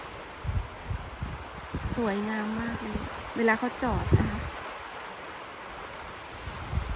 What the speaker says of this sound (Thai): เมื่อวานกับวันนี้ลมแรงค่ะ